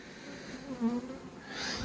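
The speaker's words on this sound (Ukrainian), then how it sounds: "пускаю, щоб ця бджола працювала через цей літок" A steady, faint buzzing of honeybees at a hive entrance hums close by, with a few brief louder swells, and no voices.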